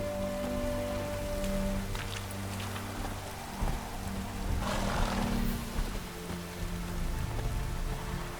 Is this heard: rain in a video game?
yes